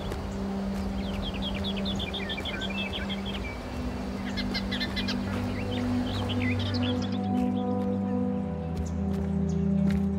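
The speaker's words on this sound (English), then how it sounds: "It's a bird." Small bird chirps ring out in short trilling bursts over a steady outdoor ambience in the video game Aporia: Beyond The Valley, fairly distant and set against a low hum.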